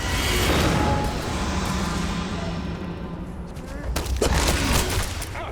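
Rapid bursts of gunfire in Starfield, loud and close, crackle in dense volleys, fade briefly, then return in a sharper flurry of shots near the end.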